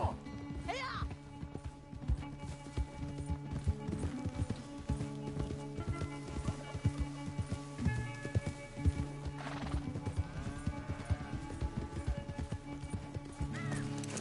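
In the Red Dead Redemption 2 video game, a horse gallops with steady, rhythmic clip-clop hoofbeats throughout, joined by a whinny or two and a background music bed, with voices heard in places.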